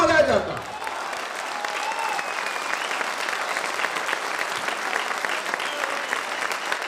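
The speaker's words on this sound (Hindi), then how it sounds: "ये तालियां कम है अब्दुल गफ्फार के लिए" Audience applause at a Hindi kavi sammelan poetry gathering: dense, sustained clapping from a sizeable crowd that fills the whole stretch at an even level, with a brief voice at the very start.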